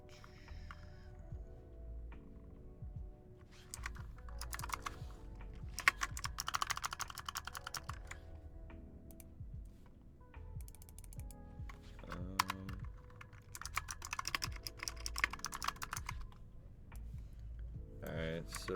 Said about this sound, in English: Here, I'll type it out.